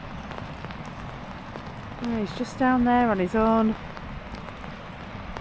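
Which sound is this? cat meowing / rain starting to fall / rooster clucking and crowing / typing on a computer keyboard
rain starting to fall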